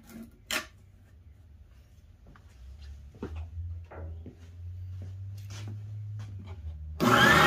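Shop Fox W1831 spindle sander working wood with no dust collection attached, a steady low motor drone with scattered rubbing scrapes and a few sharp knocks, ending in a louder burst of noise.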